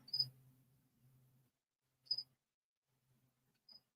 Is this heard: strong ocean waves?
no